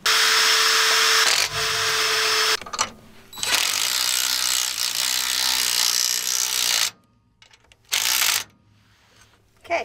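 A power drill bores holes into steel while scissor jacks are fitted to a bus, whining loudly in several bursts separated by brief pauses and near-silent gaps.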